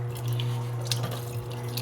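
Water running steadily in a sink while three herbs are rinsed for tea, with a continuous close splashing flow and occasional small drips.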